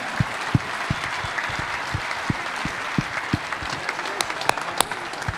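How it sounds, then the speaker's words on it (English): A crowd at a classic car auction show applauds the winning 1985 Chevrolet C10 with continuous clapping, sharp louder claps standing out near the front over the steady wash. "A big round of applause for that C10"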